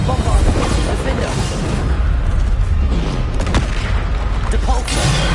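Bombarda spell blasts in the PS5 video game Hogwarts Legacy make loud, dense booming explosions that roll on continuously under a heavy wash of combat noise.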